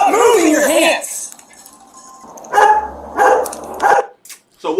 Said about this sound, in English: If you move, there's a canine in my car.